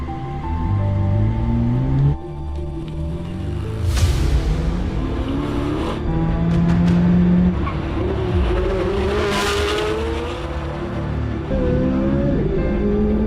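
A Chevy Corvette ZR1 races at the Nürburgring, its engine roaring loudly and continuously with rising and falling revs through gear changes and passes, tires squealing at moments, with no talking.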